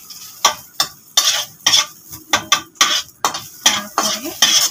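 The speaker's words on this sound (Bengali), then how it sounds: "রসুন এটা এখন গরম তেলের উপর দিয়ে দিলাম।" Garlic tossed into hot oil, with sharp, rhythmic scrapes and clinks of a utensil stirring in the pan over a faint sizzle, about a dozen strokes in quick succession, close and loud.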